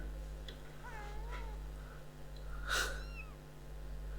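A kitten in the Pentiment video game gives a few short, close meows, with one louder, rising cry near the end over a steady low background hum.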